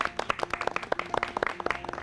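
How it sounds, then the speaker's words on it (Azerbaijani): Clapping from a small audience after an eco team's presentation, a brisk cluster of hand claps close by that lasts about two seconds, with no talk. "Buna görə sizi alqışlayırıq."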